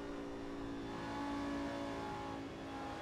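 Lamborghini GT3 race car engine at Monza in Assetto Corsa, a steady droning engine note with a slight rise in revs before easing, continuous and up close with no talk.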